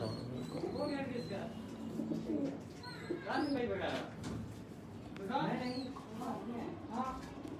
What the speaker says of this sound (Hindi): लेकिन ये हमें फैसलाबाद से लाए गए कबूतर है